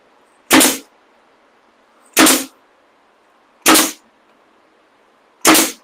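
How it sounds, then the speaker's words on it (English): A brad nailer fires nails into subwoofer box panels: four sharp, loud pneumatic snaps, close by and evenly spaced about a second and a half apart, with near silence between them. "Now, as I'm nailing, I'm really applying quite a bit of pressure, as much as I can."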